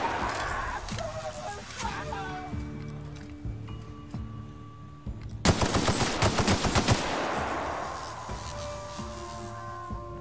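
Rapid bursts of automatic gunfire from The Outer Worlds video game crackle loudly over a steady background game soundscape, with a long dense volley in the middle of the clip.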